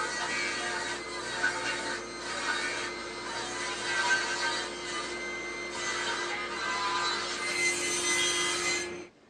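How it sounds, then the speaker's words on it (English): Wooden pieces for bed legs being cut with a saw, a steady continuous rasping drone close up that runs almost the whole time before easing off near the end. "I'll cut these to a little bit wider from here so I can trim them down later"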